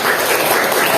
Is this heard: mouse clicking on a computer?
no